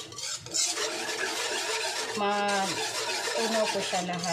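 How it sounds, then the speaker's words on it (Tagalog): A spoon stirring a cornstarch mixture for a two-ingredient evaporated milk dessert, steady scraping and rubbing against the pot, with a voice talking over it and a brief tonal squeak midway. "Haluin na po natin ito."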